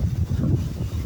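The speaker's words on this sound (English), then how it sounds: "The wind is crazy out here, yo." Strong outdoor wind buffeting a microphone, a dense, rumbling low roar with gusty pulsing that fills the whole short moment, close and loud, with no voices.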